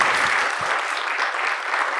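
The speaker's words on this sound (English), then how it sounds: "Another round of applause for them" Audience applause for conference panelists, a broad steady wash of many hands clapping in a hall, holding evenly and fading slightly toward the end.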